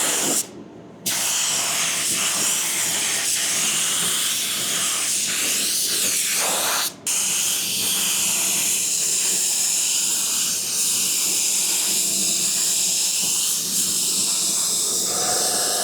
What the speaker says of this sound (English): I like the way this gun is spraying this clear coat.